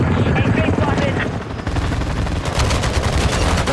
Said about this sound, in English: Let me get in this chopper gunner right here.